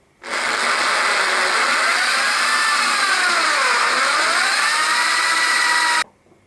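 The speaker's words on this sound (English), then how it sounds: "I haven't got one of those, so I'll have to use a hand drill." A hand drill bores holes for 4mm rivets with a loud, continuous whine that starts abruptly and holds for about six seconds. The pitch dips midway as the bit bites, then it stops sharply, with no talking.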